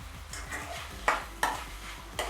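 Chopped tomato, curry leaves and salt sauté in a pan for a wheat dosa, with a soft steady sizzle and a few distinct scraping stirs of a spatula against the pan.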